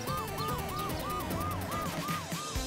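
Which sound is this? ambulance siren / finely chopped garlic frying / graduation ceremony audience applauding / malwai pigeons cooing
ambulance siren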